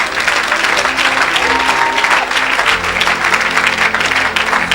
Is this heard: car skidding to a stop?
no